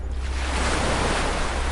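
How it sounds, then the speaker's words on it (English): Ocean waves washing onto a beach shore, a steady broadband wash of surf, close and fairly loud, with no talk over it. "As the waves return to the shore"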